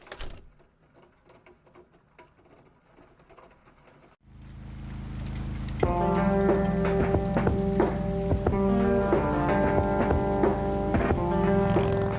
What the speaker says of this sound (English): There's nothing quite like the soothing sound of rain falling on a window.